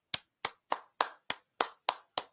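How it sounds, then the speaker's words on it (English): Eight slow, evenly spaced hand claps from one person, crisp and close with a short ring after each, alone without voices. "You hear that clapping?"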